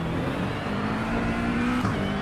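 GT3 race car engine in iRacing at Monza, a steady loud droning roar held at high revs with a brief throttle dip near the end, no talk.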